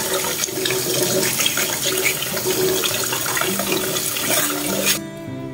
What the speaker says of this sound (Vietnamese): Bây giờ thì mình sẽ rửa gạo đó.